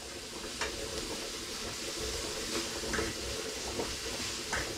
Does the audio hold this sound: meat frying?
yes